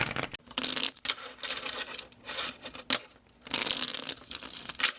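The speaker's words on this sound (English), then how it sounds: "Let's shuffle them up." Nightmare Before Christmas tarot cards being shuffled by hand, a close, uneven run of papery riffles, scrapes and soft slaps in bursts with brief pauses, no talking.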